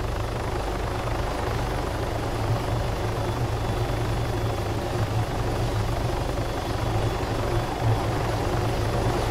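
Helicopter rotors and turbine whine in the Arma Altis Life video game drone continuously at close range, a steady loud chopping roar with no pauses.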